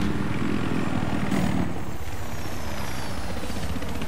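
A helicopter in the video game Battlefield 3 whirs steadily at close range, with a dense rotor and engine drone that rises slightly around the middle and then holds at a constant level, with no talking.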